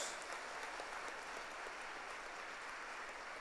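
A church congregation applauds during a service, a dense, steady wash of many hands clapping at moderate distance that holds evenly throughout without pause.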